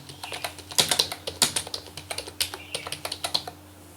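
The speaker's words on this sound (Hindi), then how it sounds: "अगर हम यहाँ पर कुछ टाइप करते हैं" Rapid, uneven keystrokes on a computer keyboard while writing in Notepad, close and fairly loud, with bursts of clicks and a few heavier key hits, alone with no talking.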